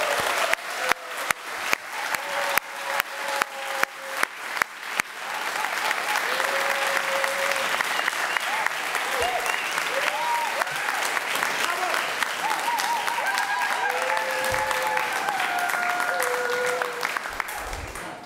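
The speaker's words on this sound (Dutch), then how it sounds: "een daverend applaus voor de schrijver van dit boek, Kisa Magendana" A book event audience gives the author loud, sustained applause, beginning with a few rhythmic isolated claps before swelling into a dense, continuous ovation, with cheering and whoops riding over it.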